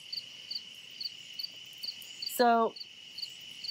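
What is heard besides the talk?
cricket chirping loudly outdoors at a campsite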